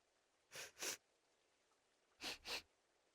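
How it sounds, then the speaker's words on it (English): Characters in the Tales of Berseria video game sniff the air. Two quick pairs of short, close sniffs are separated by a brief quiet pause. "What are you two sniffing at?"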